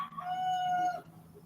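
A rooster gives a single drawn-out crow, a sustained tonal call lasting about a second, fairly close against a quiet background.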